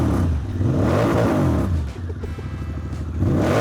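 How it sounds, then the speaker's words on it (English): A motorcycle engine starts up and revs loud and close, its rumble rising and falling through a couple of throttle blips. "If you wanna crank your bike up, my friend."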